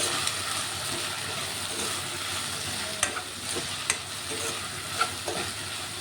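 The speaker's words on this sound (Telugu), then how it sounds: "ఒకసారి కలిపి వేసుకుంటున్నాను" A spoon stirs okra curry sizzling in a pan with salt, chili powder and tomatoes. A steady close frying hiss runs throughout, with a few light clinks of the spoon against the pot.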